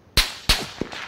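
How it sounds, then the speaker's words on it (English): Gunfire in a three-player squad battle video game: two sharp, loud shots about a third of a second apart, followed by a fainter thud and lingering noise, with no talk. "I'm getting shot at."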